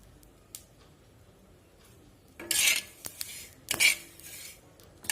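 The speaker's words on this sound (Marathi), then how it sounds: "सुरुवातीला आपण आता हे काराळ भाजून घेऊया" Niger seeds (karale) roasting in a pan at home, heard as quiet intermittent scraping and stirring rattles: two louder bursts of metal-on-pan scraping with a few clinks, over a soft, steady background.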